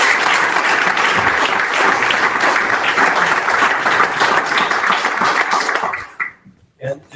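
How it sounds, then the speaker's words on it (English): A demo night audience in London claps steadily for about six seconds, dense and loud, then the applause quickly thins out and stops. "Big round of applause."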